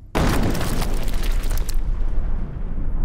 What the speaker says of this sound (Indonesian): secara tidak sengaja Korpi memasuki ladang ranjau yang meledak dan membuat kudanya mati